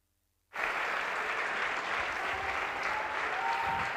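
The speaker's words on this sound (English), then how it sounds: "give yourselves a round of applause. You've already done it" A crowd claps at an African National Congress community dialogue in Gauteng, the applause starting abruptly after a moment of silence and holding as an even, full wash of hands to the end.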